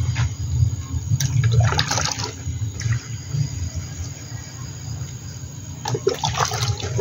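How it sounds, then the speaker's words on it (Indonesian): Chili plants in pots are watered: water splashes and patters onto soil and leaves in uneven, fluctuating bursts close by, without talking. "kita siram supaya tanaman kitanya cepat tumbuh"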